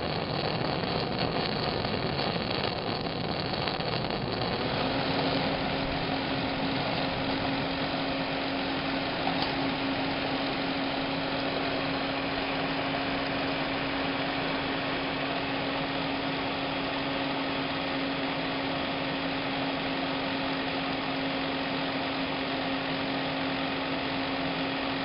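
A two-speed cooling fan on a Honda CN250 runs with a continuous mechanical hum, settling into a steadier, clearer tone after a few seconds and holding it unchanged to the end.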